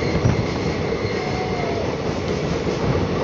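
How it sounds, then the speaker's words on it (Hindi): Prayagraj Sangam Express passenger train running through a tunnel, a loud, steady enclosed rumble of wheels and carriages with a faint high squeal, continuous and close with no voices. "और एक और टनल के बीच से अपनी ट्रेन गुजरते हुए आप लोग देख सकते हैं"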